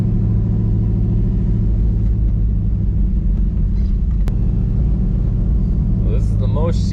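Deep, steady rumble from a cammed Dodge Dakota R/T V8 running as the truck drives, loud and close with a choppy low-end idle pulse, and a voice briefly talking near the end.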